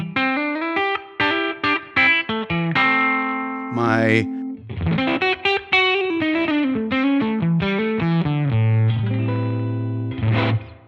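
Clean electric guitar notes and chords played through a ToneX Plug amp modeler with a Deluxe Reverb preset, a touch of reverb, fairly loud and continuous, with a brief spoken word.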